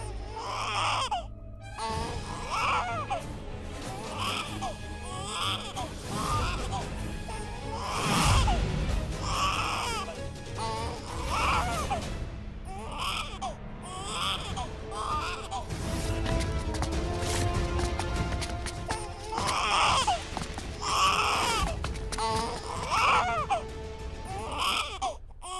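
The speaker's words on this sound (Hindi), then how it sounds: "शायद बच्चे की रोने की आवाज इधर से आ रही है।" A baby cries in loud, repeated wails with short breaks between, continuing throughout over a busy background.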